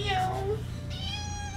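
A cat meows in a short, drawn-out call close by, over a steady low hum, with a human voice also present.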